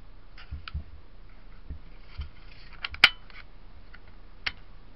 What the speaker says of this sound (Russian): После этого извлекаем рукоятку из затвора.